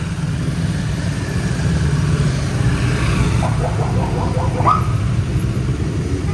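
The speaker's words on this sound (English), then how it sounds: "How many motorbikes there are?" A long convoy of motorbikes rumbling past in a steady stream of engine noise, loud and close, with revving swells and a brief higher tonal sweep midway.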